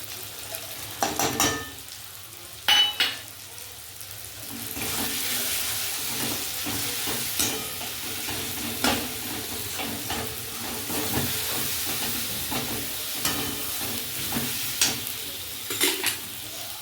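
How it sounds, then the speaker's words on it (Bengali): Ground spices including turmeric, cumin, coriander and Kashmiri chilli powder are stirred in a hot pan for a chicken dish, giving a steady sizzle with repeated scraping strokes of the spoon, close and moderately loud, with no talk. "একটু নেড়ে নিলাম"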